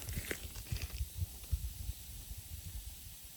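Liquid fizzing after alum is added: a faint hiss at first, then quiet bubbling with soft, irregular low pops and no voices.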